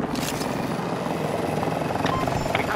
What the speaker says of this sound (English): Hostile helo located.